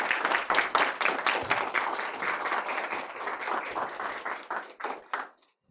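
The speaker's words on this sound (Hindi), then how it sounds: "एक बार ज़ोरदार तालियां।" A seminar audience breaks into loud, rhythmic clapping for a guest at a UPSC session, bursts of claps beating steadily before tapering off and stopping near the end.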